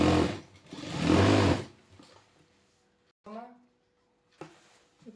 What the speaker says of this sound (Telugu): ఇప్పుడు నెక్స్ట్ స్టిచ్ ఇలా కింద స్టిచ్ చేయాలి.